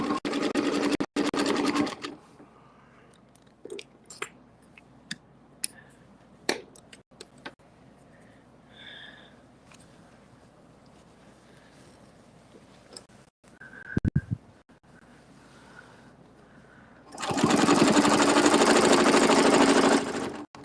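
A sewing machine runs in two loud bursts of steady stitching through fabric, one at the start and a longer one at the end, separated by quiet handling clicks and taps.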